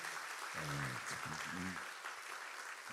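A church congregation claps for a returning missionary, a dense, steady burst of applause over several seconds while a voice speaks over the clapping.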